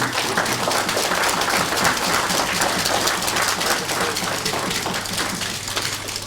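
A large audience applauds at the Samarth Star Awards Malaysia 2024, a dense and steady wash of clapping that stays loud and even throughout without fading.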